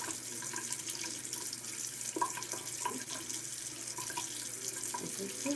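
Tap water runs steadily into a sink while someone washes their face, a close, continuous splashing rush with small irregular splashes and no speech.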